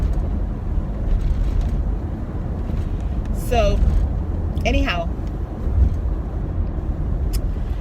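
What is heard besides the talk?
road traffic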